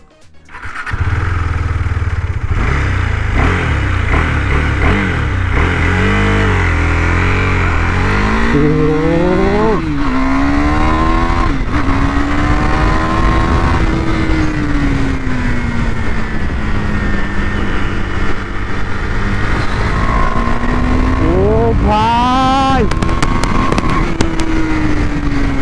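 KTM Duke 390 BS6 motorcycle engine revving hard while riding, loud and close, climbing through repeated rising sweeps with gear shifts and a long steady high-speed drone, plus wind noise and no talking.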